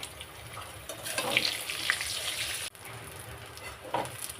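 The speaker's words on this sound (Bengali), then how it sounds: "সামান্য হলুদ লবণ দিয়ে বেগুনটা একটু ভেজে নিলাম" Brinjal frying with turmeric and salt gives a steady close hiss and crackle, briefly louder midway, with a short gap and a small clatter near the end; no voices.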